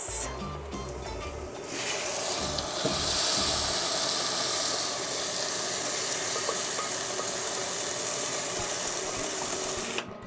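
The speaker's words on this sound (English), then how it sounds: "Now pour in the sauce." Tomato-based sauce for vegan jollof rice hits a hot pan with browning tomato paste, erupting into a loud, steady hiss and sizzle that carries on for about eight seconds.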